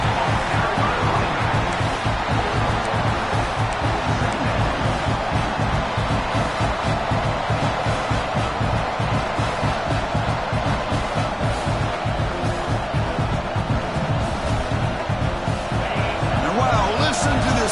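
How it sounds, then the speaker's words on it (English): A loud, roaring college football stadium crowd, dense and sustained throughout, with a steady thumping pulse beneath the noise. "Crowd noise. This stadium is vibrating."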